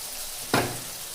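A masala for Kerala-style chicken curry sizzles in a pan just after vinegar goes in, with one sudden hiss and splash as it hits the hot oil, fading back to a low, steady frying crackle.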